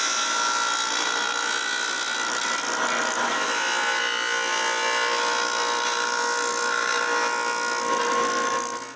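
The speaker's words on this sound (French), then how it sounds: "Je termine la forme avec la sableuse." Sander shaping a small wooden lever for a tripod, a close, loud and continuous abrasive grinding whir that holds steady throughout with no pauses.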